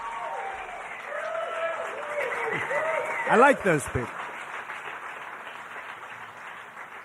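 A comedy show audience applauding and cheering at a stand-up set, with a broad wash of clapping that swells briefly midway and then tapers off, while someone speaks over it.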